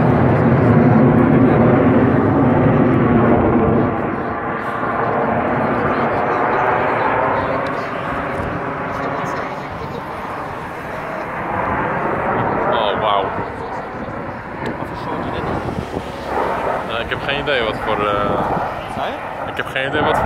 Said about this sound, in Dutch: Dat zijn 10 vliegtuigen.